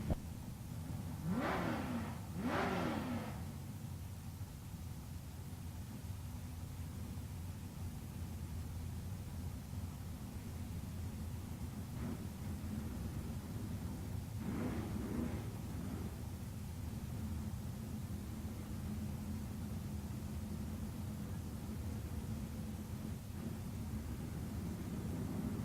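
Drag race cars launching at Tucson Dragway, one a roadster: two brief engine roars burst out near the start and another comes later, all fairly distant and faint over steady outdoor background noise, with no talking.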